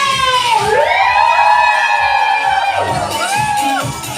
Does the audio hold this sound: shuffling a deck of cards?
no